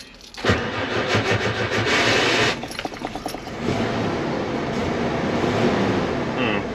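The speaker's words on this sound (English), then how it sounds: "it sounded like the flywheel was getting eaten alive by the starter motor" Starter motor on an old Ford F150 truck cranking against a stripped flywheel, a loud harsh grinding and rattling churn with a short whine, then continued rough grinding and engine rumble that runs steadily to the end.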